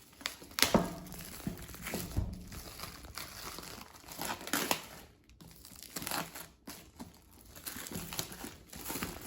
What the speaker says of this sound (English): You have a little something here, the plastic. You're gonna pull, you don't need the scissor.